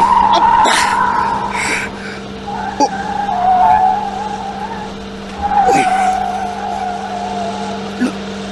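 A car skids with loud screeching tire squeal in a drama sound effect, several drawn-out squeals rising and falling over a steady engine hum.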